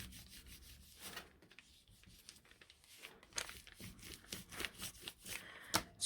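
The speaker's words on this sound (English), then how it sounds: "and then just give it a good burnish" A folded paper bag page for a mini album is burnished by hand, giving soft, uneven rubbing and scraping strokes in quick bursts that grow louder toward the end, with no voices.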